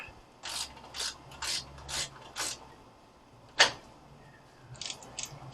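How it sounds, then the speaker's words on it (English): A hand ratchet tightening bolts on a wrecked Pontiac Fiero during radiator support repair: five evenly spaced clicking strokes up close, a sharp metallic clank, then a few faint clicks near the end. "now we got to finish tightening everything up"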